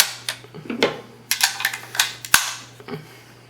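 Rounds clicked one by one into a KCI magazine, a series of sharp metallic snaps and clacks in an uneven rhythm, close and fairly loud.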